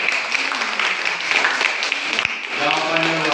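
A class applauding a student's answer, a steady burst of clapping from a group with a voice starting to talk near the end.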